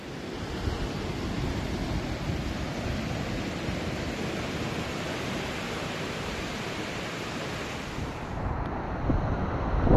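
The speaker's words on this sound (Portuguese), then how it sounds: "Já esse canto direito tem mais ondas por motivos óbvios. O vento está chegando de nordeste." Ocean waves and wind at Sissial beach in Governador Celso Ramos, Santa Catarina, with a northeast wind driving surf onto the right end of the beach; a steady, loud wash of breaking surf and wind rumble fills the whole stretch.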